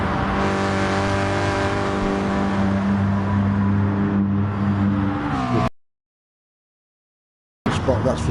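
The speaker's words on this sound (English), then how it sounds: "I like the sound of that Volkswagen in Mailer's car" A Volkswagen race car engine in a PS4 racing video game drones loudly and steadily with a rich harmonic hum, sweeping slightly in pitch before cutting out abruptly, then a brief return near the end.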